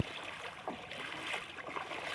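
Wading through floodwater around a village: steady sloshing and swishing of water as legs push through, close and continuous, with no voices.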